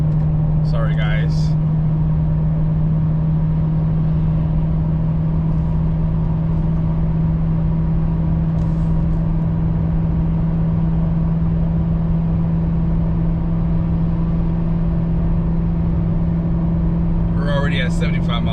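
A pickup truck engine accelerates while towing a trailer, a continuous loud droning hum with a firm low tone running steadily, broken briefly by faint clicks near the start and end.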